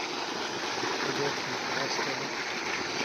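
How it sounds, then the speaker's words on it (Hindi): Water gushes at full flow from a tubewell bore pump, making a continuous, even rushing and splashing noise close by that holds steady throughout. "पानी भी उसने फुल उठाया हुआ है फुल नाल दे रही है"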